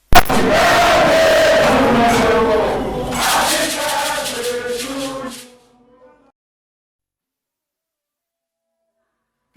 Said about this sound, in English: A round of applause to Mr. President.